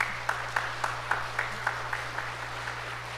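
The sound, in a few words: church congregation applause for the choir members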